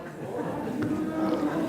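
Church congregation at a Sunday service imitating a cow's moo in unison, a sustained low, droning hum of many voices blended together, steady and moderately loud throughout.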